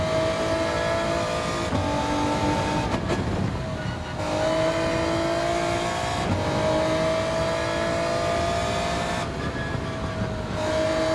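Race car lapping Fuji International Raceway in a Group 2 event, engine droning loud and steady with pitch rising and falling through gear changes and passes.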